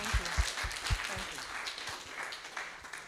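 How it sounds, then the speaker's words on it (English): An audience applauds as a university panel leaves the stage at a roundtable event, with scattered claps and a murmur of voices that hold steady for a few seconds. "Can we just applaud as they leave the stage?"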